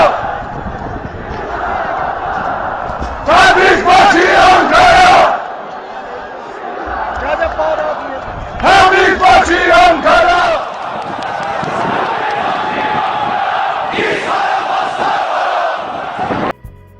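A stadium crowd at Yadigar Imam Stadium chants rhythmically in unison at a Tractor Sazi football match in the Iranian cup final, loud, massed voices rising in bursts and falling back, with a roaring crowd constantly beneath.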